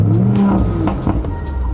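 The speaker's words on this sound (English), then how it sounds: "We have a really powerful engine." A 2026 Audi RS5 plug-in hybrid's 640 hp engine revs loudly and close, with a sustained low growl that swells and surges through the whole stretch, no voices present.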